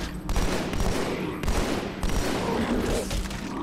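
Automatic weapon fire in Halo 2: Anniversary during a fight against the Flood in a dark area, loud sustained bursts with a few sharper punctuating shots throughout.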